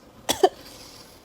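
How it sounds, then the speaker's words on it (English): Two short, close coughs in quick succession from a person with a chest cold, the second slightly heavier, followed by quiet room tone and a faint click. "I kept coughing."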